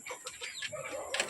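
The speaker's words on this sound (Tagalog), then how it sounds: "Kadto na lamang manok," A chicken outdoors in a rural village clucking in several short, close bursts, with faint rustling around it.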